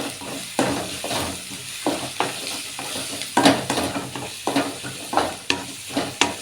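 Ginger garlic paste frying in a pan for a vegetable paneer gravy, giving a loud, close sizzle with frequent rhythmic stirring scrapes and no voices.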